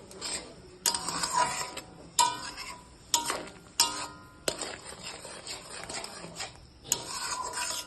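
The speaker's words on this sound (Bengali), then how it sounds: "এই মেশানো পেস্টটি আমি এবার কড়াইয়ে ঢেলে দিব। মশলাটি ঢেলে দেওয়ার পর ভালো করে এটাকে কষিয়ে নিতে হবে।" Spice paste for a Bengali duck-egg curry is stirred in a kadai, with repeated scraping and rasping strokes, light clinks of the utensil on metal and a faint frying underneath, no voices.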